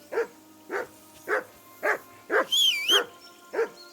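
A dog barks in the video game Kingdom Come Deliverance II, giving a steady run of about seven sharp, evenly spaced barks roughly every half second, with a brief high whistle over one of them.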